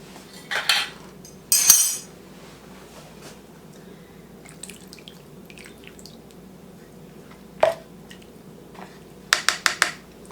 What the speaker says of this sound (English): let me open one more jar